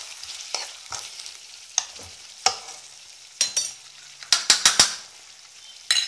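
Chicken with mushrooms in a pan with the heat turned off is stirred with a utensil, giving irregular scraping clicks and taps against the pan over a soft sizzle, with no talking.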